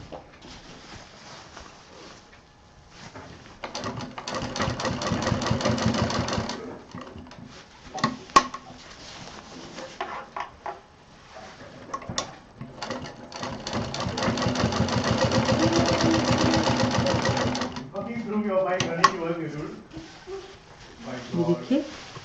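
Sewing machine stitching a DIY college bag, running in several bursts of rapid mechanical whirring with pauses between, while a person talks over and between the runs.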